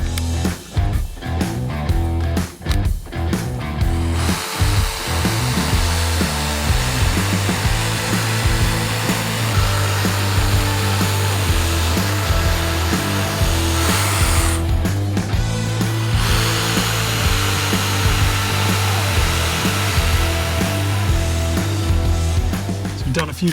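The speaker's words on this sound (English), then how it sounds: "Now we're going to do task 3, which is going to be cutting this composite decking." A Bosch jigsaw fitted with an Expert Hardwood Fast blade cuts through thick composite decking, a loud steady buzzing whine held for long stretches with a brief pause and restart midway.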